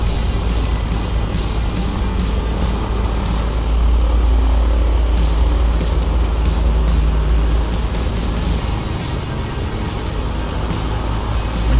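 An aircraft taking off in the flight simulator Air Hauler 2, a steady loud engine drone with a deep low rumble holding throughout, swelling slightly midway, with no speech.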